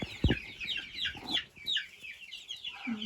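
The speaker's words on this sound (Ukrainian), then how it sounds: "Там індичка дві сидять" Turkeys cluck and chirp nearby in a busy farmyard, a steady run of short, soft calls after a low thump at the start.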